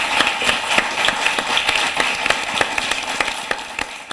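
An audience at a televised Hindi poetry gathering claps steadily for a visiting humorous poet from Agra. Sharp, evenly spaced claps blend into a continuous wash of applause with no voices.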